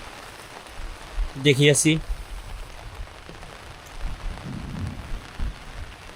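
Light rain falling on a village path near a small bridge, heard under an umbrella after heavy rain and cold wind: soft steady patter of drops, faint, with a brief spoken word early on.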